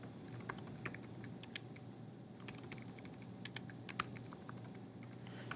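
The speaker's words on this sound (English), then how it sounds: "I would go ahead and type my question right in here" Typing on a computer keyboard while entering a question into a review widget: steady, rapid key clicks, close and fairly quiet, over a low constant hum with no talk.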